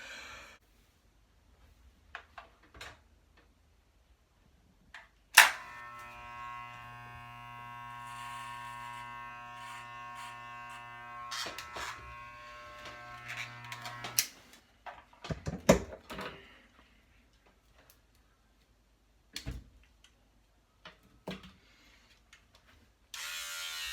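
An electric shaver buzzes steadily at close range as it is run over the hair on a head, one long continuous stretch with a few short bursts and breaths around it. No one talks.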